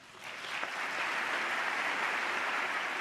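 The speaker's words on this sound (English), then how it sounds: "So each and every one of them start clapping." A crowd breaks into sustained applause after a political speech, building within the first second into a dense, steady wash of clapping that holds loud and unbroken to the end.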